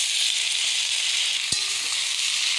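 Vegetables with turmeric, green chilli and oil fry in a pan, giving a steady, even sizzle throughout with a single sharp clunk of a utensil midway.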